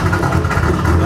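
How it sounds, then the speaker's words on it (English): Turbocharged Acura NSX engine at cold start, a loud, dense low-pitched rumble filling the short moment, close by, with a voice partly mixed in. "Cold start?"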